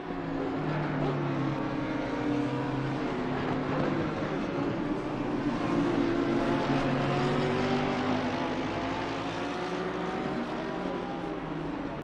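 GT race cars, including a Lamborghini, battle closely at Kyalami in Assetto Corsa Competizione, a dense layered roar of several engines at sustained high revs, loud and unbroken.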